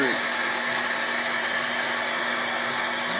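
A metal lathe runs steadily while cutting threads, giving a continuous mechanical hum with a fixed tonal whine. The level stays even throughout, like an idling motor.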